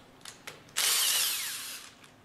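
An impact wrench whirs loudly for about a second while backing out an upper bolt on the front inlet valve plate of a General Pump MWSR pump, preceded by a couple of short clicks and followed by a quiet tail.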